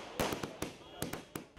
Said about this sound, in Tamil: நூற்றுக்கணக்கான காங்கிரஸ் தொண்டர்கள் ராகுல் காந்தி வீட்டு முன்பு பட்டாசு